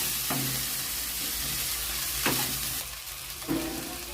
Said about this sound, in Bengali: আদাটাকে ভেজে নেবো ভালো করে।